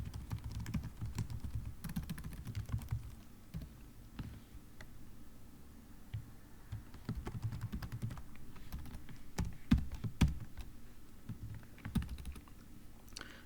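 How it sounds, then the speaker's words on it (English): Steady typing on a computer keyboard, close and fairly quiet, with continuous quick key clicks and occasional heavier key strikes over a short stretch, with no talking. "I will type them out anyway for clarity"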